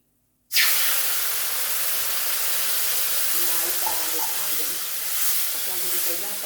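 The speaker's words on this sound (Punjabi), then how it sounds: "ਹੁਣ ਆਪਾਂ ਇਹ ਚ ਪਾਵਾਂਗੇ ਪਾਣੀ ਗਰਮ ਪਾਣੀ ਪਾਵਾਂਗੇ" A steady, loud hiss begins abruptly after a brief silence and continues evenly as hot water is poured into a pan of semolina halwa, with faint low clatter underneath.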